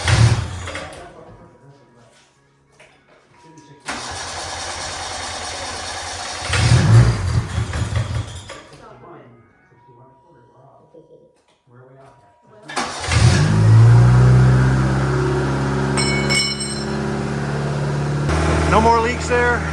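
A Yugo, the 1980s European hot hatch, cranks and catches over several attempts. Its engine then starts and revs loudly up close, with rising and falling bursts of throttle between quieter idle stretches and pauses.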